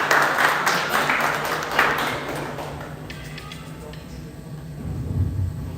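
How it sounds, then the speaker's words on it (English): Audience applause for a guest speaker at a live discussion event, a dense patter of clapping that fades after a few seconds, with voices talking underneath and afterward. "give it a round of applause for him"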